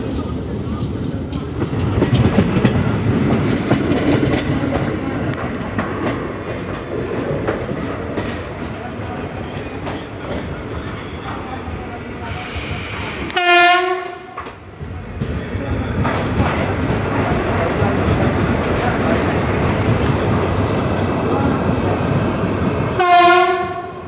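The Marathwada Express rolls along from inside a general class coach, a steady rumble and rattle of wheels on rails broken by two loud multi-tone train horn blasts, with passengers murmuring faintly.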